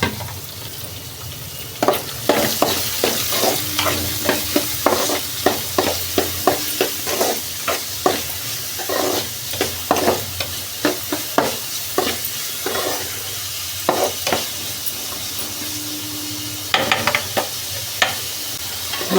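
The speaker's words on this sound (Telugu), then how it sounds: "తర్వాత ఉల్లిపాయలు పచ్చిమిర్చి వేసుకుని వేపుకోవాలి. గోల్డ్ కలర్ వచ్చే వరకు ఫ్రై చేసుకోవాలి." Onions and green chillies frying in a pan, a constant sizzle under a long run of rhythmic spatula scrapes and knocks against the pan, close and fairly loud, without speech.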